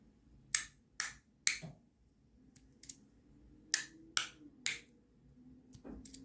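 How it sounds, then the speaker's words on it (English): Crisp, sharp clicks from a haptic fidget toy with aluminum inserts, in quick groups of three at an even cadence, close and clear with short quiet gaps between groups, plus a few fainter clicks. "Very consistent cadence there with the 3 clicks"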